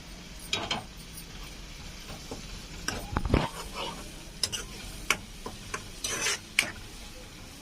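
Green chillies, three or four, frying on low flame in a pan for a stuffed brinjal (gutti vankaya) curry, with a soft sizzle under scattered scraping stirs and light utensil clinks, close and fairly quiet.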